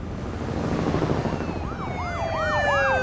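Police car sirens wail in The Walking Dead video game, several overlapping rising-and-falling tones sweeping in over a dense low rumble and growing louder toward the end.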